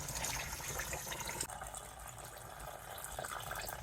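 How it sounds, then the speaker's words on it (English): Coolant drains from the radiator of a Honda J35A7 V6 engine, a steady broadband splashing gush that continues throughout at close range with no talk. "To help this drainage, I'm going to open the radiator cap from above. Let it drain."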